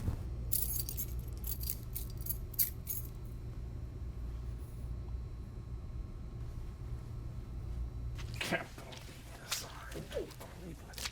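Keys jangle in quick metallic bursts near the start, then again more loudly toward the end, close by against a low room hum.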